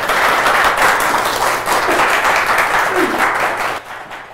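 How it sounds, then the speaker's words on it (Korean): Steady applause from an audience fills the whole stretch, dense and even, fading slightly toward the end. "큰 박수로 맞아주시기 바랍니다."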